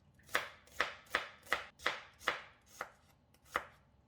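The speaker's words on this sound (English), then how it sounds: "Slice the red onion into thin slices." A knife slices red onion on a cutting board in eight crisp, evenly spaced chops, close and clear with no talking.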